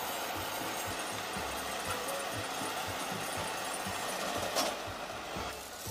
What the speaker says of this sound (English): The LKT-81 skidder with a 180 horsepower engine is a powerful machine